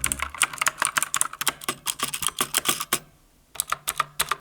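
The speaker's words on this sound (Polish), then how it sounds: "Mechaniczne przełączniki to jakiś klon niebieskich, nie chodzą idealnie." A cheap mechanical keyboard with clone blue switches is typed on in quick, clicky, slightly uneven bursts of keystrokes, with one brief pause before the typing resumes, close and clear.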